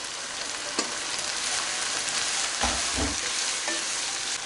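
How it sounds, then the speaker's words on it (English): Prawn and lime noodles are stirred in a hot pan, with a steady sizzle running throughout and a few louder scraping knocks near the middle. "Give that a good stir."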